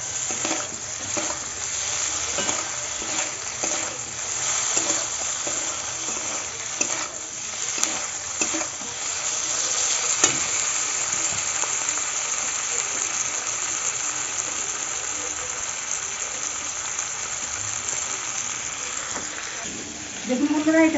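Green chillies and dry red chillies frying in a pan, a continuous sizzle with occasional stirring scrapes and crackles, steady and close throughout.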